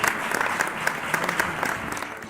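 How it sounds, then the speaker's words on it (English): A crowd at a business award ceremony applauds, with many hands clapping in a lively, crisp patter and a few louder individual claps standing out. "Can we give them a big round of applause, everybody?"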